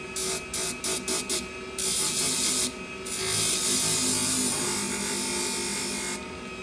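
Hair salon shears being sharpened to a convex edge on a 400 grit stone: a few quick rasping strokes, then longer sustained grinding rubs of steel on the stone, close up.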